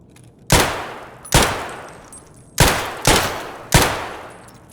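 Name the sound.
unsuppressed gunfire from a new weapon in video game Escape From Tarkov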